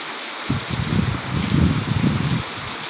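Rain falls on a rose garden as a steady, close patter of drops with rustling bursts that swell and fade, and no one speaks.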